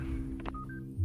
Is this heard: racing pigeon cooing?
no